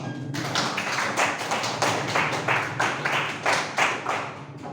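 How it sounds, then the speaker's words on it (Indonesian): A classroom applauds group 2 with steady, rhythmic clapping that sounds like hands beating together in near unison, continuous and fairly close throughout, with no talking over it. "silakan berikan tepuk tangan untuk kelompok 2"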